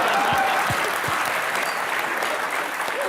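Loud, steady applause from a studio audience at a Hindi TV comedy show, filling the clip without a break, with a few faint voices underneath.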